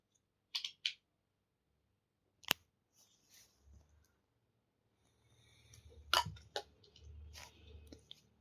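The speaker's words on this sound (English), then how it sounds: "Just give a little small trims so that the curve will be perfect" Scissors make small trimming cuts in fabric at the curved back neck of a dress, sounding as a handful of crisp snips scattered across near-silence, followed by faint handling rustle.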